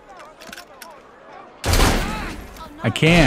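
Gunfire in Assassin's Creed Syndicate, a sudden loud burst of shots erupting after a quiet spoken moment, followed by further sharp reports, with a voice talking.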